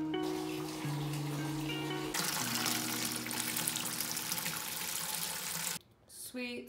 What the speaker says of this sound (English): Sweet, so the water is added